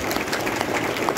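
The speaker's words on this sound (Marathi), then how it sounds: "जोरदार टाळ्या एकदा साऊंड वाल्या." Audience applause for the sound crew at a Marathi poetry recital by Anant Raut, a steady burst of clapping from a crowd, with no voices over it.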